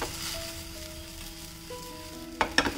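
Oats chilla batter cooking uncovered in a pan without added oil, giving a steady soft sizzle with a faint tonal hum behind it and a couple of sharper clicks near the end.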